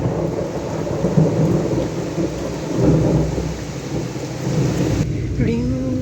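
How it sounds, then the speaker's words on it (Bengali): Heavy rain pours steadily with deep rolls of thunder rumbling through it, loud and close, during a monsoon downpour at home; the wash of rain continues throughout without any talk. "কি দারুণ বৃষ্টি হচ্ছে"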